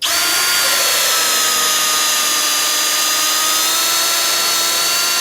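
A loud, steady high-pitched whine from a power drill spinning fast while boring through cork, running continuously without pause.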